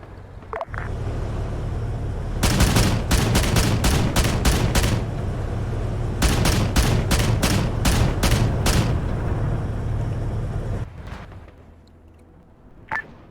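Gunfire in a military video game comes in two long bursts of rapid, loud, sharp cracks over a steady low rumble, followed by quieter ambience and a single thud near the end.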